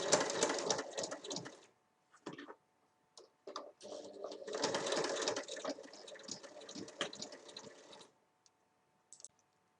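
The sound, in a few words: sewing machine stitching fabric pieces beside zipper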